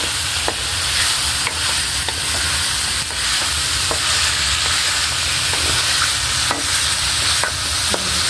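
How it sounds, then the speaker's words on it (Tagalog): Chicken adobo being stirred in a pan, a loud continuous frying sizzle cut by regular scrapes and knocks of a ladle, close and alone without talk. "Haluin na po."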